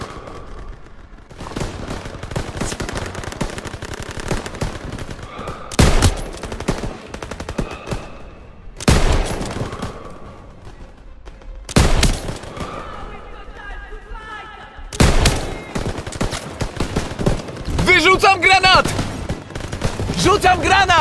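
Heavy machine gun fire in the World War II shooter Call of Duty WWII rattles in long, dense bursts broken by loud explosions, with soldiers shouting over the battle.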